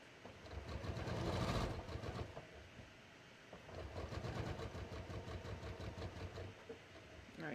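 A sewing machine stitches across the bottom edge of a pair of jeans in two bursts of fast, rhythmic needle clatter separated by a short pause, heard close and fairly quiet with no talking.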